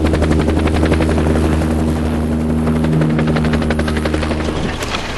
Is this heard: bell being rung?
no